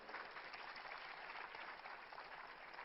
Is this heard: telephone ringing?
no